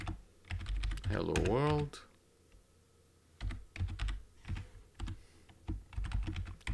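Fast typing on a computer keyboard while entering C++ console code, with soft clustered keystrokes in bursts, briefly interrupted by a short spoken phrase near the start.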